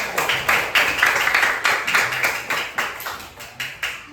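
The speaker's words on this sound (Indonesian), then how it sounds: "Beri tepuk tangan yang meriah untuk kita semua" A group in a school coding-lesson classroom claps together in a quick, steady rhythm, with sharp evenly spaced claps repeating throughout, fairly loud and close.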